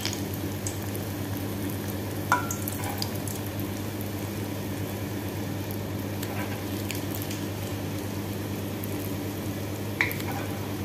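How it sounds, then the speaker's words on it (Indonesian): Red velvet churro dough sizzles steadily in a pan of hot oil over medium heat, a dense, even crackle and hiss throughout, with a couple of brief clicks and no talking. "tinggal digunting-gunting saja ke wajan yang berisi minyak panas"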